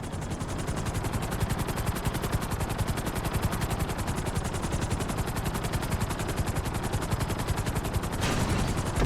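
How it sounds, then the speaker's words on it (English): A helicopter in the video game GTA V settles onto a helipad, its rotor making a dense, rapid chopping flutter that stays loud and steady throughout, swelling slightly near the end, with no talking. "bring the helicopter down gently onto the helipad."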